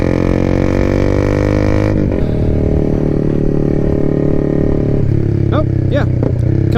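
A Honda Rebel 300 motorcycle with a 300 cc engine drones steadily at close range while being ridden, its loud engine note shifting in pitch, and a rider speaks over it at times.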